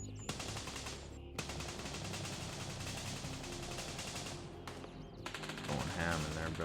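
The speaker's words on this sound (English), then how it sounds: "Listen to all that gunfire." Rapid automatic gunfire from a firefight in the Gray Zone Warfare video game crackles in dense bursts, fairly distant and continuous, with some short pauses and scattered single shots near the end.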